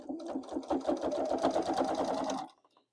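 A sewing machine stitches down quilt binding along an eighth-inch mark, a rapid, even rattle of needle strokes running steadily for over two seconds before stopping.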